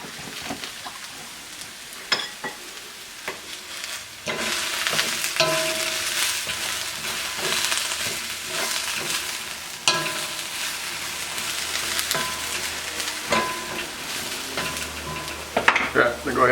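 Eggplant stir-fries in a hot pan with a continuous close sizzle and crackle, scattered clinks and stirring scrapes on top, and brief talk at times.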